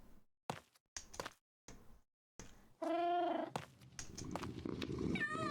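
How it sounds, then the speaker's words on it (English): A domestic cat lets out a clear, drawn-out meow in the middle of intermittent soft knocks and light handling noises, followed by a couple of shorter chirpy cries under a rising background rustle. "Thank you for the meow, Ali."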